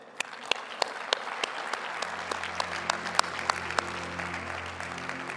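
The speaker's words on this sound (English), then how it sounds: "a big round of applause for our panel." Applause for a panel at a COP28 food event: a crowd claps steadily, with a few sharp nearby claps standing out and a low hum of the room underneath.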